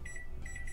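A kitchen timer being set for five minutes while noodles cook for mac and cheese gives a short series of faint, evenly spaced electronic beeps over a low background hum.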